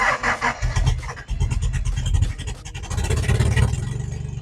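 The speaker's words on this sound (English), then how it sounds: "I swapped the line back to the fuel tank, and we're gonna start the car." A 1982 Toyota Celica Supra engine cranks in rapid pulses, then catches and runs roughly into a loud, uneven idle with a rattling rhythm, heard up close.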